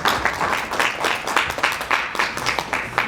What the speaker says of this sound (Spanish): Un aplauso a Mario y te dejo la mesa.